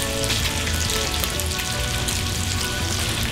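Bacon frying in a pan, a loud, dense, continuous sizzle with crackling pops, close up and uninterrupted.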